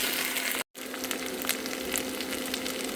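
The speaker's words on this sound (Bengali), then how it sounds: "আদা বাটা দিলাম, দিয়ে আবার ভালো করে কষতে থাকি" Ginger paste frying in a pan for aloo dum, a steady close sizzle with faint stirring scrapes, broken by one brief gap, no voices.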